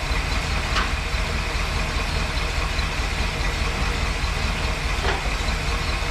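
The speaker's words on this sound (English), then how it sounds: "First, it's idling a little low." A Mopar 383 V8 with a four-barrel carburetor swap idles a little low, giving a steady, close, rumbling engine drone that runs throughout with no speech over it.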